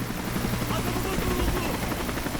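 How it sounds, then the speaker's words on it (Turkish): Rescue helicopter in the video game Call of Duty: Modern Warfare 3, a steady low rotor drone running throughout at even loudness, with faint game background sounds layered over it. "Kurtarma helikopteri orada."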